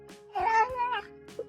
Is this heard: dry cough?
no